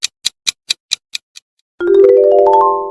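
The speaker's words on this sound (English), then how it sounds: "those brawling sounds come from Brawl Stars" Game audio from Brawl Stars: seven sharp, evenly spaced ticks like a countdown, then a pause and a loud, bright tonal chime that swells with layered rising notes, with no talk.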